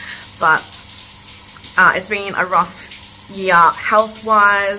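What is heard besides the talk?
shower running in the background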